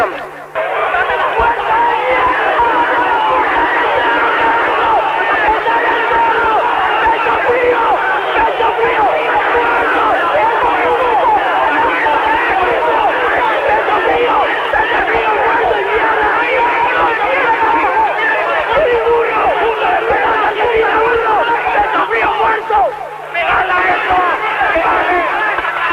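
Football stadium crowd at a Paraguayan league match between Cerro Porteño and Tacuary, a dense continuous roar of shouting and cheering that fills the whole span, with a brief dip near the end.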